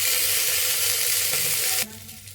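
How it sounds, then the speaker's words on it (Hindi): Chana dal frying in a pan, a loud, steady sizzle of oil that cuts off abruptly near the end, leaving a faint quiet background. "अब इसको थोड़ा फ्राई करते हैं।"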